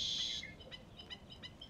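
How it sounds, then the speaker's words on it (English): A red-winged blackbird sings out in the wetlands, a bright, piercing trill followed by a string of short, faint chirps at a distance. "It's a red-winged blackbird you hear in the background. Very distinctive song that they sing."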